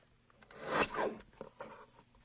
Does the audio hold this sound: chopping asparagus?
no